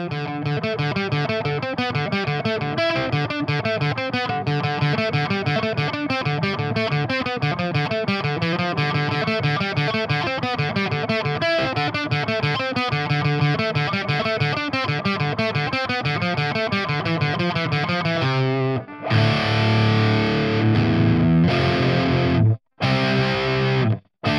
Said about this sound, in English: it starts off with a phaser sound and comes back later in the song with a delay and palm muted